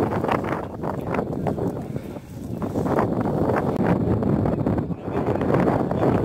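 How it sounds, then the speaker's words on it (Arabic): Steady wind buffets the microphone on a hilltop hike near a dam in Morocco, a continuous loud rushing roar with gusts that swell and dip throughout, no other sounds standing out. "شحال ما طلعنا للفوق كاين الريح"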